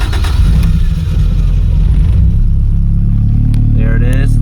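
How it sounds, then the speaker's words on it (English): A freshly swapped Toyota AE86 engine runs loud and close, a steady low rumble with slight revving that settles into an even idle throughout. "we're going to fire it up just so you guys can hear it run for the first time"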